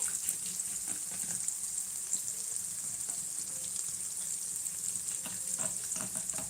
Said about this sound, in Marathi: मसाला टाकलेला आहे तो छान शिजत आहे